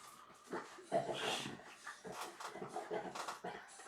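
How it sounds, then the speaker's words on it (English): A dog winds itself up close by, with whines, huffing pants and short yippy vocal bursts that build as if about to bark, fairly quiet and uneven in rhythm. "that sounds like a dog getting wound up"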